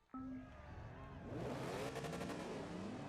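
A fast custom car in Forza Motorsport 2 fires up and revs hard, its engine climbing in pitch with a raspy, rising drone that fills the scene after a short electronic blip.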